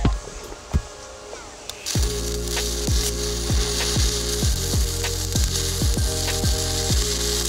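TIG welding of 1/8 inch stainless steel at 67 amps, DC scratch start, on an Everlast Storm 215c welder: quiet at first, then a steady buzzing arc hum with a regular rhythmic ticking and crackle, close up.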